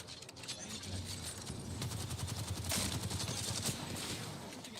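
Rapid gunfire from the video game Apex Legends rattles in dense bursts, steady and moderately loud, with a faint voice in the background.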